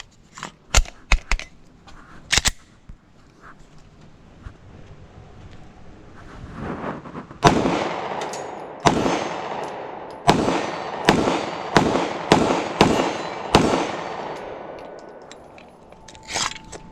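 Ruger RXM pistol firing a string of sharp, loud shots outdoors, a few spaced early cracks then a steady series of roughly a dozen reports at about one per second, each with a brief echoing tail.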